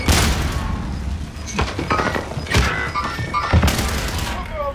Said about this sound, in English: Strong frag grenade